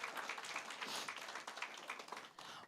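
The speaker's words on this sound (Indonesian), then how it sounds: "Kita beri tepuk tangan bagi Tuhan." Steady applause from a church congregation during a sermon, a dense wash of clapping that holds evenly for a few seconds before tapering slightly.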